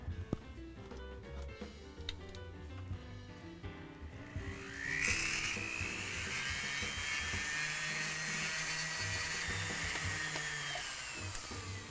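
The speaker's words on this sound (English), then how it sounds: "I'm going with a pretty big burr here." A rotary tool fitted with a large burr carving jewelry wax, a steady high-pitched whine that spins up midway and then holds at a constant loud pitch, close and alone.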